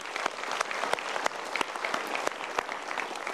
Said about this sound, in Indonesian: kita berikan tepuk tangan lagi